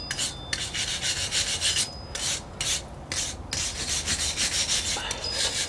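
Concrete residue being scrubbed by hand from the mortar joints of a brick wall, heard as close, steady rasping strokes in bursts with brief pauses between them.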